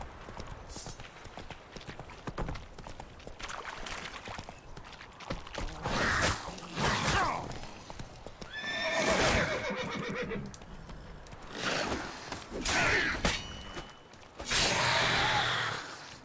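Several loud horse whinnies and snorts in The Witcher 3: Wild Hunt, interspersed with clip-clopping hooves and faint breathing, fairly close and uneven in rhythm.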